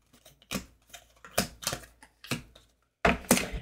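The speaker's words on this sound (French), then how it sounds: "Je pose les cartes et je vous dis tout." Tarot cards are laid down one after another in a quick run of crisp, close taps and slaps, about a dozen brief card hits with short pauses, with no talk.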